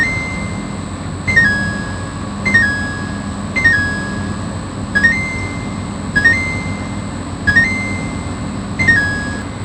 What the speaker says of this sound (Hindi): कुछ इस तरह की जो है डिफरेंट नोटिफिकेशन टोन आपको हर एक डिफरेंट ऑपरेशन के साथ सुनाई देती है